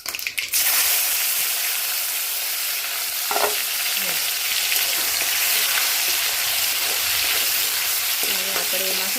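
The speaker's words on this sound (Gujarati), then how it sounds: "રાઈ અને જીરું થોડા તતડી જાય એટલે એમાં આપણે લીલા મરચાં અને ટામેટું જે કાપ્યું હતું એ ઉમેરીએ આપણે।" Tomato and green chilies drop into hot oil with crackling mustard seeds and cumin, setting off a loud, steady frying sizzle with stirring scrapes and a few utensil clinks, and no voices.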